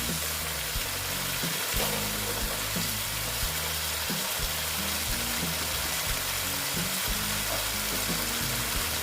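Mustard paste with added water fries and is stirred in a pan for a boal fish curry, a steady close sizzle with soft scraping stirs throughout.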